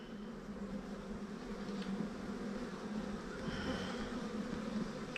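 Many honeybees drone steadily around an open hive frame in a beeyard, a close, continuous buzz with small swells as individual bees pass near.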